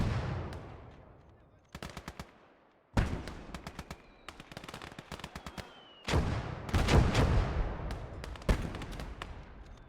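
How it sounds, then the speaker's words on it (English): A Soviet artillery battery fires a barrage in a WWII real-time strategy game, with loud clustered bangs and rattling bursts arriving in several waves, each followed by a decaying rumble. "Well, the Soviets' huge artillery battery. Barrage firing off"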